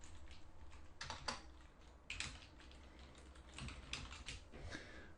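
Keys clatter on a computer keyboard in quick irregular bursts as someone types short entries into a storyboard card, close and moderately quiet, with no talking.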